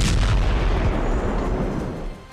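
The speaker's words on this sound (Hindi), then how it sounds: "विमानों ने हमास के ठिकानों पर बम बरसाए।" Israeli airstrike bombing in Gaza sends loud, rumbling explosion blasts rolling through, a dense continuous roar of booms that gradually fades toward the end.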